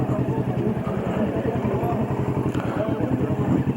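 Motorcycle engine idling in a parking area, a steady close low throb with a regular pulsing beat that runs unbroken.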